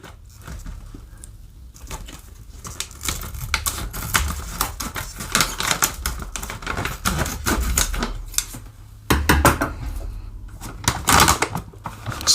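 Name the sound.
scissors snipping a coffee bag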